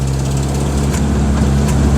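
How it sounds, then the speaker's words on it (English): Loud, close idle of a Renault R5 Le Mans Edition rally car with a 1.7 engine, a steady low drone with a faint tapping from a tiny hole in the exhaust manifold. "You can hear a bit of kind of like a tappity noise. It's a tiny little hole on an exhaust manifold."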